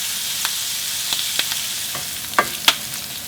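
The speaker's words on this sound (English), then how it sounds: "You can stir fry until all sides are very tender and a little wrinkly." Garlic scapes sizzle as they stir-fry in a hot pan, a steady soft hiss broken by scattered crackles and a few sharper pops near the end, heard close up with no voices.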